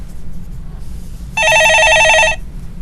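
A telephone on a stock-market call-in broadcast gives one loud, close electronic warbling ring lasting about a second over a quiet background.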